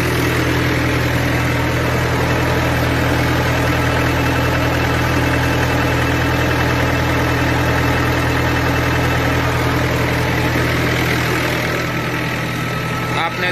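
A tractor engine runs steadily driving a PTO generator, a loud continuous low idle hum with a constant drone and no change over the whole stretch.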